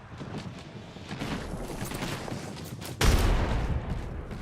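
Gunfire in a video game, a busy spread of shots and impacts building to a loud burst midway, followed by continued clatter.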